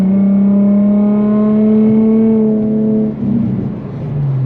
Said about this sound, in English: something about this exhaust, something about that VQ sound